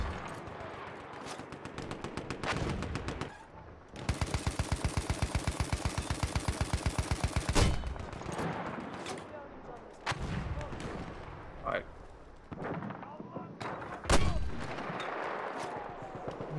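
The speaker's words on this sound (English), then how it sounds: "This game is suppressing fire." Sustained bursts of automatic gunfire and heavy explosions fill a battlefield video game firefight, with a long rapid machine-gun stretch in the middle and scattered louder blasts around it, while players talk over the din.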